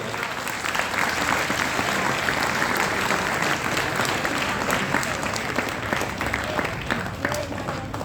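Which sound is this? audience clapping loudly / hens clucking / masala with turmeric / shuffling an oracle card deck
audience clapping loudly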